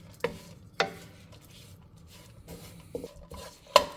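Light scraping and clinking of a utensil stirring barberries around a pan for saffron rice, scattered taps and scrapes spaced across a few seconds, close by with no talk.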